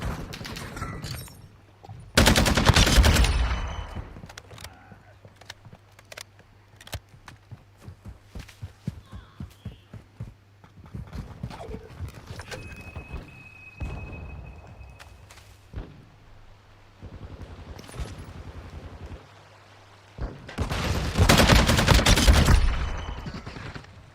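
A Lachmann-762 submachine gun in its Party Crasher form fires in Call of Duty Modern Warfare II: two loud rapid bursts at the start and end, with scattered lighter shots and footsteps between them.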